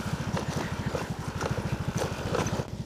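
A motorcycle engine chugs at low revs with a steady, rapid pulsing beat on a mountain trail in the highlands between Sugpon and Alilem, close and continuous for about three seconds.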